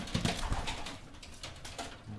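A racing pigeon gives a couple of soft low coos at the start, close by amid light rustling and background noise in a loft.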